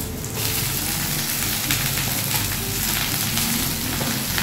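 Chopped greens (shak) with stalks sizzle and crackle steadily in a hot pan in a village kitchen, a loud, close, continuous frying hiss with no one talking.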